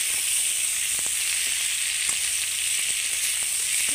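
Jackfruit pieces frying in hot oil in a pan for a fish curry, a constant close sizzle with a few light clicks of stirring.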